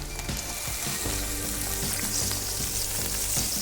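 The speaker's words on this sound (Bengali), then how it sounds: "গাজরটা ভাজতে অত সময় লাগবে, এই জন্য এখানে অ্যাড করে দিচ্ছি" Onion and carrot sizzle steadily in a hot pan, a continuous frying crackle with occasional stirring scrapes.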